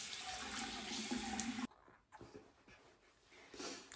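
Water runs from a bathroom tap while someone rinses their face to remove makeup. A loud, steady gush drops suddenly, then quieter splashing follows.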